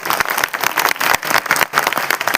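An audience at a Hindi comedy poetry gathering bursts into applause, a full, close burst of many hands clapping in uneven waves that runs throughout.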